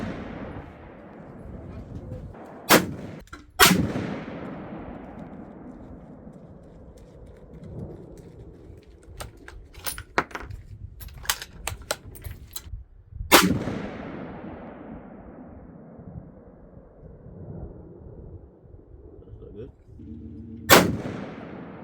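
Several sharp gunshots from a CZ rifle chambered in 6.5 PRC with ELD-X ammunition, fitted with a Discovery Optics ED-PRS scope. The loud cracks come singly at irregular intervals, each followed by a long rolling echo outdoors.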